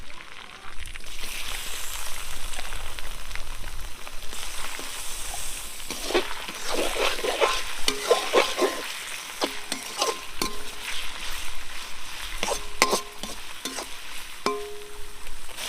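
Chopped ginger, garlic and chicken fry in a pan for village-style chicken chow mein, giving a steady close sizzle with irregular scraping and stirring clatter from a spatula throughout, no talking.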